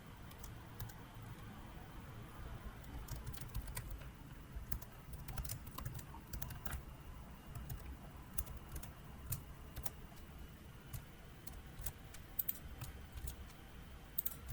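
Typing on a computer keyboard while editing web page code, a steady run of soft, close key clicks with occasional brief pauses over a quiet room hum.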